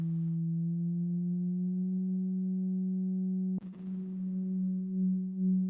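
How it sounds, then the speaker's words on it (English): A synthesized sine wave with slight modulation holds a pure, steady low tone with a few faint harmonics, briefly breaking off with a click midway before resuming. "Now, it's a simple sine wave. Bit of modulation on it."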